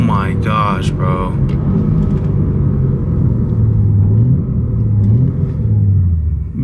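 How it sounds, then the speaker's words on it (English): A modified BMW G80 M3 accelerates hard, its engine rumbling loud and deep from inside the cabin with a rising then steady drone, and a voice talks briefly at the start. "it's crazy how fast this car picks up"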